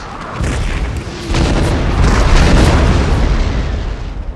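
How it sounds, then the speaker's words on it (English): Booming artillery fire from an online battle in the video game Napoleon: Total War, a loud, dense rumble of overlapping cannon blasts that swells after the first second and holds heavy throughout. "Wow, there's an artillery duel going on here."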